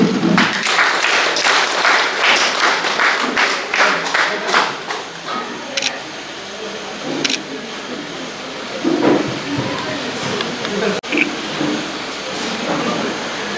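Applause from an audience at a Jain temple's tenth anniversary gathering: a burst of crowded clapping at first that thins and becomes patchier, with scattered voices and background hall noise.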